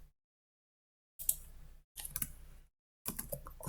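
Three short bursts of rapid clicking keys on a computer keyboard, separated by brief silences, close and fairly quiet with no voices.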